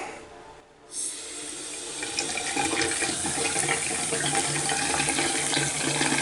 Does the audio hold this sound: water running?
yes